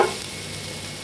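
Garlic and ginger sautéing in a pan for chicken biryani, a brief steady sizzle with a faint stirring scrape at the start, close and alone.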